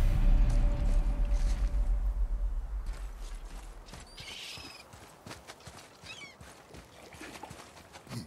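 An axle is lifted in the video game God of War: a heavy mechanism groans and rumbles low for several seconds, then gives way to a run of quieter creaks, ticks and clanks.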